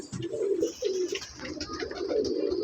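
Pet pigeons coo in a loft, a close, low, throaty rolling call repeated several times in quick bursts, with faint rustling and chirps behind.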